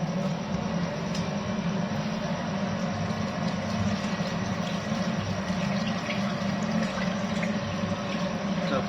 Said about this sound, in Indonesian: Jadi airnya kita buang.